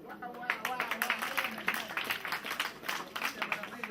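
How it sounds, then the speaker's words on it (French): A conference audience applauds with a dense, continuous patter of hands, moderately loud, while a voice speaks over the clapping. "Applaudissez."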